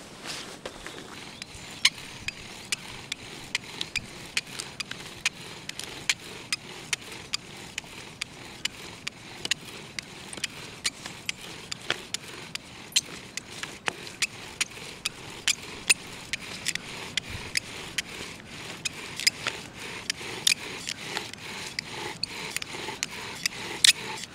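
A bow drill spindle spins on a lime wood hearth board, making a steady rasping friction drone with regular squeaks and ticks as the bow strokes back and forth, close and continuous throughout.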